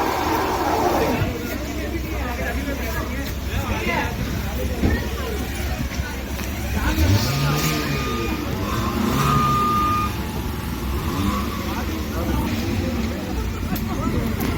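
Repeated reversing beeps from vehicles backing up on a road in heavy snowfall, heard amid steady engine rumble and traffic noise, with people talking over it throughout.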